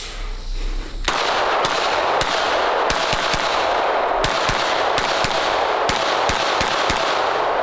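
A compensated Smith & Wesson carry pistol fires about a dozen loud, sharp shots outdoors in an irregular string, each a crisp crack with a brief echo.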